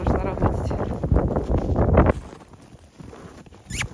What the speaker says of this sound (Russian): А сейчас метель.